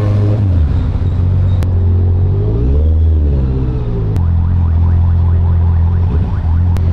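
A truck rumbles past on the road beside a Honda CB650R motorcycle, its loud low engine drone and tire roar swelling and shifting in pitch as it goes by, over steady engine and wind noise.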